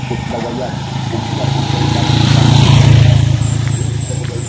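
A motorcycle engine drones past, swelling louder in the middle and then easing off, heard beneath people chatting nearby outdoors.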